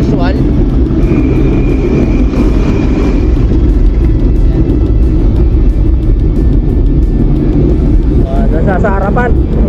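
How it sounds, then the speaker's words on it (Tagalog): Steady road traffic near Balagtas market in Bulacan, a loud continuous rumble of passing cars and engines close by, with brief horn-like tones near the end. "So laging traffic dito as usual"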